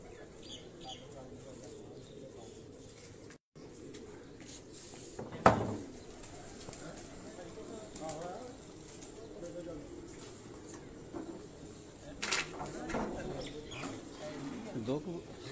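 Pigeons coo softly in a loft while people talk nearby, their calls mixed with rustling and a few sharp knocks.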